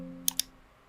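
A computer mouse clicks twice in quick succession, sharp close taps over a faint steady hum.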